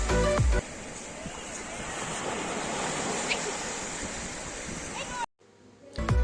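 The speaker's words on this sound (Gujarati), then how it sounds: "કુડાના દરિયા કિનારાના મોજાનો અવાજ સાંભળો" Steady surf of sea waves washing onto Kuda beach near Bhavnagar, a broad continuous roar with wind noise across the microphone. It cuts out abruptly near the end, then returns briefly.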